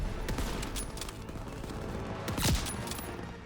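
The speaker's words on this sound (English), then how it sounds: "Wow, another sniper rifle kill." Sniper rifle gunfire in the World War II shooter Call of Duty: WWII multiplayer, with scattered sharp shots among busy battle noise and one louder, close crack standing out near the end.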